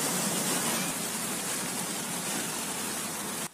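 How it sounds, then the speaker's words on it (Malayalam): Heavy rain pouring inside the Silent Valley forest in Kerala, a dense even roar of downpour that cuts off abruptly at the end. "സൈലന്റ് വാലി വനത്തിനകത്ത് അതിശക്തമായ മഴയാണ് പെയ്തത്"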